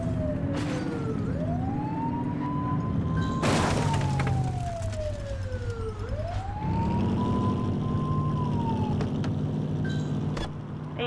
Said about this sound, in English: Get behind them and blip the siren and make them pull over.